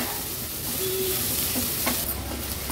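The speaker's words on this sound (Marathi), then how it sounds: "कांदा व्यवस्थित आपल्याला परतून घ्यायचा आहे तेलावर" Onion sautéing in oil in a pan over a low flame, a continuous soft sizzling hiss with occasional faint clinks or stirring sounds.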